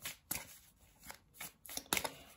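Tarot cards shuffled in the hands, with several quick papery riffles and slaps and a couple of cards dropping out, close and fairly quiet, with no talking.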